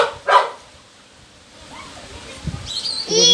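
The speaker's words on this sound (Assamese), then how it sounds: "এইবোৰ চৰাই" Birds chirp at a zoo in Sivasagar, Assam, with a few short tweets and whistles near the end, while a dog barks once early on and faint background noise persists.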